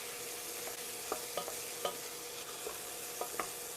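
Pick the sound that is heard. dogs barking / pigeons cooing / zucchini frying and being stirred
zucchini frying and being stirred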